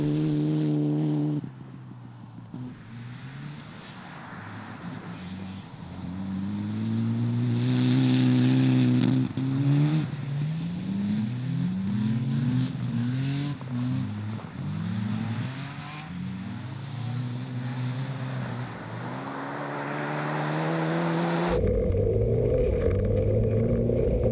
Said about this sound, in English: The Mitsubishi Group N is a forgiving car, but there is still a lot of work at the steering wheel.